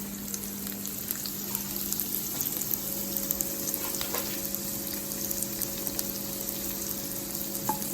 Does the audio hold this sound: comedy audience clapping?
no